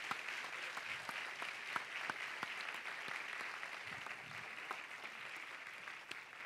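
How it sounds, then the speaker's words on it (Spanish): Sustained applause from a seated audience at a university conference closing ceremony, steady dense clapping throughout, moderately distant with a roomy feel and no clear talking. "Y unas palmas para ellos."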